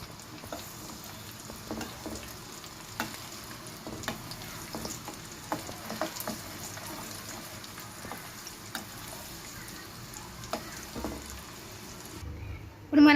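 Dry red chillies, garlic cloves, curry leaves and asafoetida sizzle in hot oil as a tempering for tomato chutney, a soft continuous frying crackle with scattered spatters and stirring clinks, ending in a sudden loud knock.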